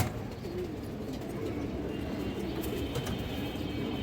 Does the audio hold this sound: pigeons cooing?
yes